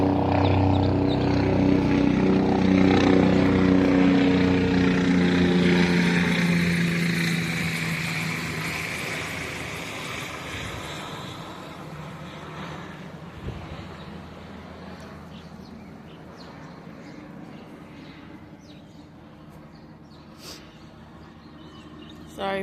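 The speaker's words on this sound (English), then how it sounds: "Sound like a helicopter." A helicopter flying over an urban front yard garden, a loud, droning rotor and engine rumble near the start that gradually recedes and fades into the distance.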